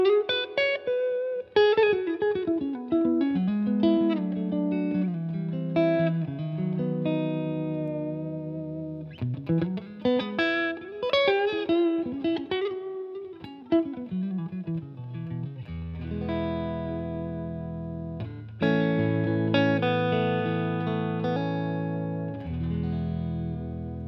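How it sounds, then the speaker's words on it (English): A Novo Serus S Stratocaster-style electric guitar plays through a 25-watt amp, strumming chords and picking melodic lines with distortion and effects, loud and continuous with sustained notes ringing out. "So here are some of the tones."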